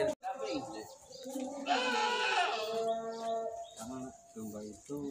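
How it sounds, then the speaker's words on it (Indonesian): Etawa goat bleating close by in a clean livestock shed, several wavering, nasal calls in a row, with people talking nearby. "Kambing etawa nih."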